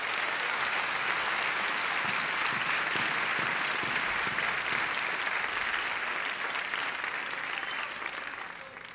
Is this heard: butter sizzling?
no